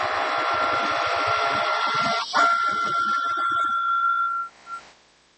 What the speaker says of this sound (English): So I just got to hit the Cricut.